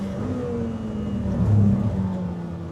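Lamborghini Temerario engine pulling steadily under acceleration, a close, continuous low drone that swells and rises in pitch midway through the run, with no talking over it.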